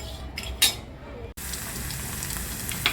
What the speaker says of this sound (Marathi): आपला कांदा भाजत आलेला आहे